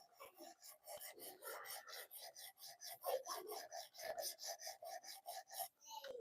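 A knife blade is stroked against the stone of a sharpening system, a rhythmic series of raspy scraping passes, close and steady, repeating back and forth for several seconds.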